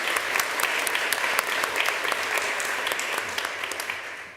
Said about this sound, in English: And one more round of applause for all of you.